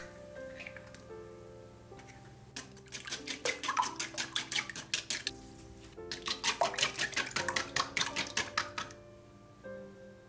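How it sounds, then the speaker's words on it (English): Four eggs briefly beaten with a pinch of salt for Japanese garlic butter fried rice, heard as two fast runs of rapid clicking strokes against a bowl, close and fairly loud, with no talking. "Briefly beat 4 eggs with a pinch of salt."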